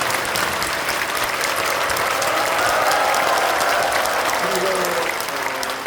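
A church congregation applauds a pastor during an installation thanksgiving service, a dense steady wash of many hands clapping that continues for several seconds.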